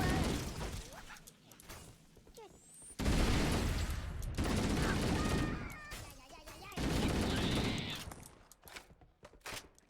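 Assault rifle gunfire in the video game Halo: Combat Evolved, repeated rapid bursts of automatic shots mixed with game effects, separated by brief lulls, with someone speaking at times.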